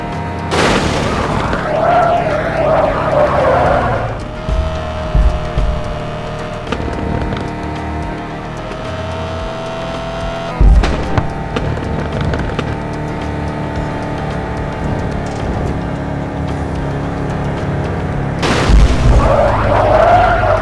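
Car crashes in a mobile crash simulator game with one car and one map: loud booming impacts and crunching collisions recur through a steady engine drone, with sharp bursts near the start, middle and end.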